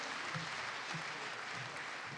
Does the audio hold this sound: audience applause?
yes